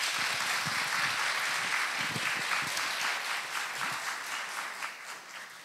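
A forum audience gives a big round of applause to five presenters, dense continuous clapping at full strength that thins slightly toward the end.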